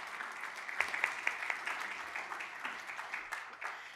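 Audience applause at a meeting after a general manager's report, moderately faint and a little distant, with scattered sharper claps standing out above the steady patter.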